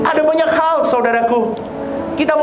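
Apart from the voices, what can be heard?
No everyday noise stands out behind the speech.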